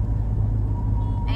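Heavy road traffic on the highway between Hyderabad and Chennai makes a steady, dense low rumble of engines and tyres, continuous and loud throughout with no break.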